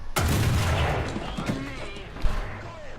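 A tank cannon round from a Challenger 1 in War Thunder simulator battle, fired at an angled B-model enemy's lower hull and glancing off the upper front plate: a sharp loud blast with a rumbling tail, then a second thud.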